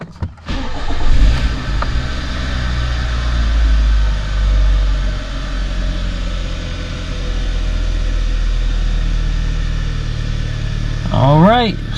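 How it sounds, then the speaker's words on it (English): A 2013 Kia Optima, just fitted with a new knock sensor, cranks and fires up close by. It then settles into a steady, smooth idle for several seconds, and a voice briefly cuts in near the end. "All right, so let's start her up."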